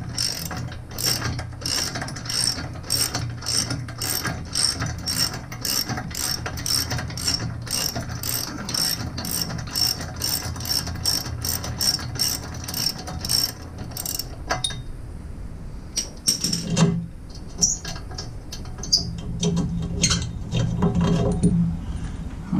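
A hand ratchet backs out a long bolt on a Jeep TJ, giving a fast run of sharp, evenly spaced pawl clicks up close, then a pause and a few scattered clicks and metallic handling noises.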